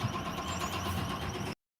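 A truck with a MaxxForce engine runs with a steady, rough drone for about a second and a half, then cuts off abruptly.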